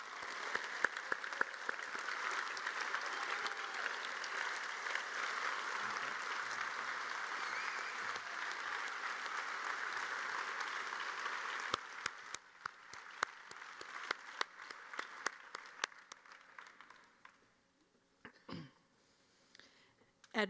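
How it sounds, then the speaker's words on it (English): A graduation-ceremony audience at Williamsville East High School applauds its academic top ten, steady sustained clapping for about twelve seconds before thinning into scattered claps and fading to near silence. "let's give a round of applause to our academic top 10."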